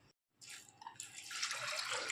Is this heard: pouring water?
yes